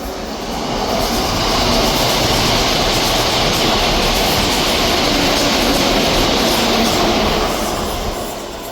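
Two coupled ScotRail class 174 diesel units pass on a Dundee service at Dalmeny, a loud, steady rumble of wheels and engines that swells in and holds close before easing off at the end.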